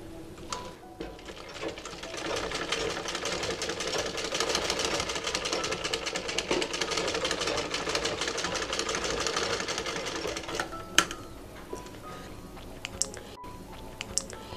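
A sewing machine stitches along the side of a cloth face mask, a dense, steady mechanical whir up close for about ten seconds, then stopping into scattered small clicks and handling noises.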